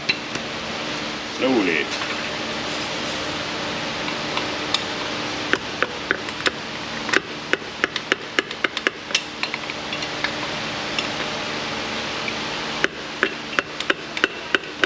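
Metal tapping as a piston is driven out of an LS engine block, a string of sharp, separate knocks that come at uneven intervals over steady background noise, with brief speech near the start.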